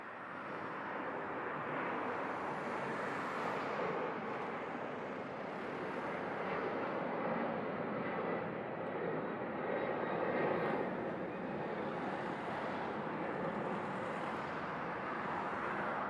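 Continuous broad roar of an airplane landing at Montego Bay Airport, Jamaica, steady and moderately loud throughout with slight swells, no voices.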